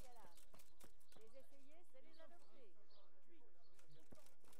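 Horse hooves clop in the medieval role-playing game Kingdom Come: Deliverance, a quick irregular run of sharp knocks mixed with game ambience while someone talks over them.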